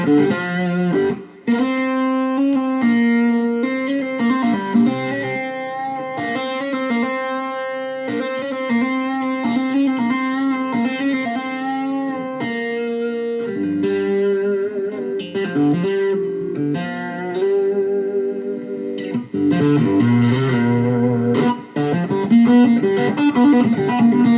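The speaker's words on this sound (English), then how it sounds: "You can get some great distortion at a low level" Distorted electric guitar through a Roland Cube 10GX amplifier with the treble turned down, playing steady chords and riffs continuously at a moderate, even level with a slight chorus-like shimmer.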